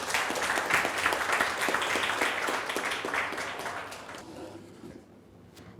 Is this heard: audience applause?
yes